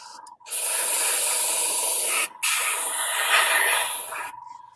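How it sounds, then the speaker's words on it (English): Airbrush spraying paint onto an F4U Corsair scale model, a close steady hiss in two bursts of about two seconds each, separated by a short pause, with no talk. "I love airbrushing."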